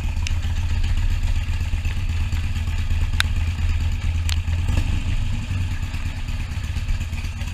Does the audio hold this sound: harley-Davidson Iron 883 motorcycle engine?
yes